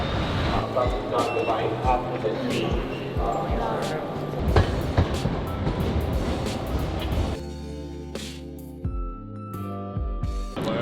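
A train rumbles and clatters at a station platform while people talk nearby, then the noise eases into quieter clicks and squeaks.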